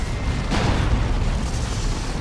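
A heavy orbital bombardment explosion in Dawn of War 2 lands as a loud, dense rumbling blast that fills the whole moment, booming and roaring without a break.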